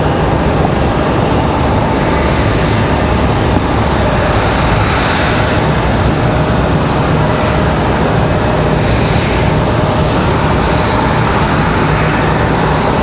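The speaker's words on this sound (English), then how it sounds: "So Mesa Airlines coming in from Houston." A United Express jet operated by Mesa Airlines, arriving from Houston at Raleigh-Durham airport, gives a loud, steady engine roar that holds close and strong throughout with no talking.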